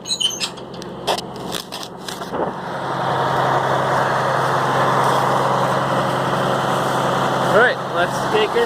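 A 1970 M35A deuce and a half truck engine idles with a steady low diesel rumble that builds and holds, after a few clanks and knocks at the start, close by and loud.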